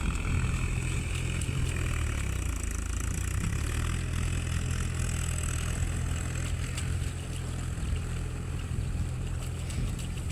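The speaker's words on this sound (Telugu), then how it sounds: "మీకు డిస్టర్బెన్స్ రావచ్చు ఎందుకంటే ఇక్కడ ట్రాక్టర్ దున్నుతుంది కాబట్టి" A tractor ploughs a rice paddy nearby, its engine a steady low drone that runs without a break from start to finish.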